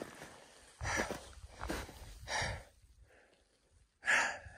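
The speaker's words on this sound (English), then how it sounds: "Heavy breathing." Heavy, labored breathing from a hiker climbing Mt. Whitney in March after 99 switchbacks, a few loud gasping breaths spaced about a second apart, close to the mic with no talk.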